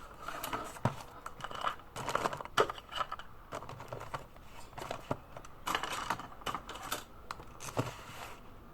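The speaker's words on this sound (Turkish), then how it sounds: "Öncelikle kalemlerimi yerleştirmekle başlıyorum kalemlerimi falan koyuyorum." Light clicks and clacks of plastic pens dropped into a desk organizer, irregular and close, repeating over several seconds with soft rustling between.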